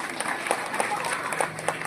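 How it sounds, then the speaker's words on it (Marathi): A crowd at an Eid-e-Milad gathering in Koregaon applauds, a moderate, fairly even patter of clapping with faint voices mixed in. "जोरात टाळ्या वाजवा सगळ्यांनी"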